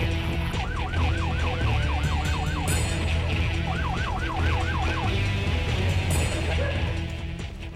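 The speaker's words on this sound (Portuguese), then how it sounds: "imediatamente, a ambulância saindo para o Morro do Romão" An ambulance siren wails loudly nearby as it pulls away, sweeping up and down in repeated cycles over a running engine and road rumble, with voices talking underneath.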